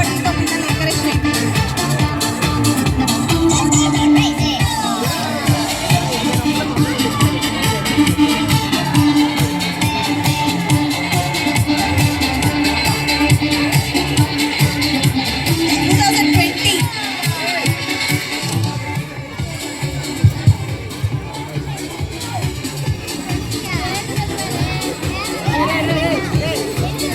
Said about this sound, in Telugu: అందరూ గట్టిగా చప్పట్లతో పిల్లలు ఎంకరేజ్ చేయండి.